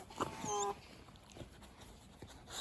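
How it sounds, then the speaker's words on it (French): A dog whimpers with a few short, high, soft whines close by, followed by quiet shuffling and faint noises in a calm space. "on a le fidèle chien"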